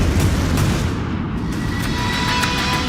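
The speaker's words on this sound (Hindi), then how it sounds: "नोवोरोसिस्क अड्डे पर होता है बड़ा धमाका" A big explosion at the Novorossiysk naval base on Russia's Black Sea coast, where a Kilo-class diesel-electric submarine was targeted, comes through as a loud, sustained broadband roar and rumble with no speech.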